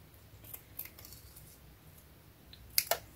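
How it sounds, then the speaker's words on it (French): Scissors snip paper at close range: a few faint cuts early on, then two sharper, louder clicks near the end against a quiet room background. "je vais le couper avec les ciseaux"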